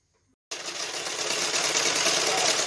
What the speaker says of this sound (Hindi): देखिए अभी हम पेटीकोट सिलाई कर रहे हैं